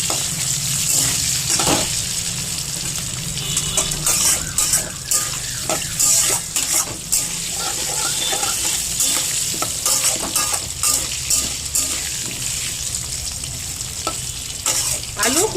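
Food for a Bengali fish curry with potatoes and cauliflower fries in a pan with a steady, close sizzle, while a utensil stirs and scrapes it continuously.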